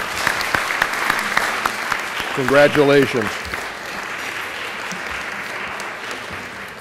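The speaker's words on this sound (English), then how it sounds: "So I would like to give them a round of applause." Sustained audience applause fills a 10th anniversary gala dinner and dance, continuous clapping throughout while a voice briefly speaks over it.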